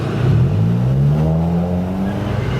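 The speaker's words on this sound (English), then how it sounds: "we're gonna drive the car at high RPM so the engine gets hot" A car engine revs hard at high RPM as the car is driven on a road, with a loud, close, steady drone rising gradually in pitch over a few seconds.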